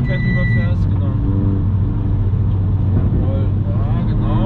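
A loud BMW M2 drives on a race track, its engine droning steadily and heavily throughout, with people talking over it.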